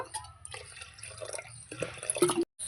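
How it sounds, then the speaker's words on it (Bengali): Water being poured into a cooking pot of mung dal with taro, prawns, salt and green chillies, a short soft splash and trickle heard close up and fairly quietly, with no talking. "আর একটু জল দেব"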